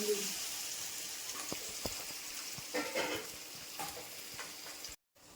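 Steady sizzling of tomatoes sautéing in a pan, with a few stirring scrapes, before it cuts off abruptly near the end.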